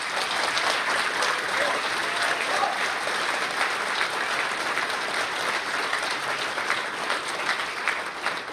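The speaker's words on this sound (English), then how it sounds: "First Sergeant Hensley and Fishburne, a big round of applause." Sustained, dense applause from an audience at an AUSA event, honouring the Fishburne Military School cadet color guard, holding steady and loud throughout with no voices over it.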